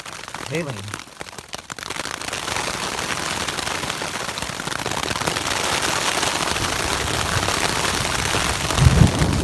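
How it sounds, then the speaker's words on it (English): Hail pelting a tent at a trail camp on the Pacific Crest Trail between Belden Town and Chester, a dense, steady rattling hiss that builds slightly over the clip, with a brief voice at the start. "I mean, that's just hailing."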